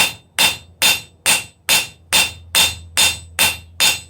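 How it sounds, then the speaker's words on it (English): Steady hammer blows on metal at an anvil while forging a church key bottle opener, about ten sharp ringing strikes at an even, unhurried rhythm, close and loud with no talk. "Now this is like a half on, half off blow on the material and not the anvil face."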